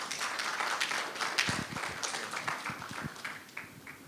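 Audience applause for a speaker at an aquatic animal advocacy conference in Kuala Lumpur, a steady spread of many hands clapping at moderate level, with a few sharper nearby claps standing out toward the middle.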